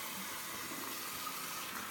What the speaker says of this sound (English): before I even touch my face, I'm going to wash my hands.